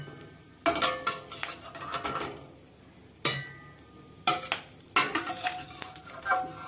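Cashews roasting in ghee in an overheated pan while making bread halwa. Close clattering scrapes and stirring knocks come in several bursts separated by pauses, with a light sizzle underneath.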